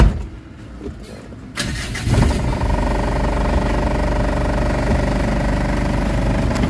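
A Mitsubishi Adventure engine, one with weak pull and low power, cranks and catches. It then settles into a steady, loud idle that runs without a break to the end.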